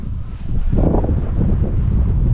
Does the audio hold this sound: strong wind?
yes